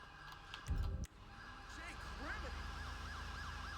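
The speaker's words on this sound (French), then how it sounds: "Ambulance." An ambulance siren wails in rising and falling sweeps, moderately distant, after a brief thump, over steady traffic rumble.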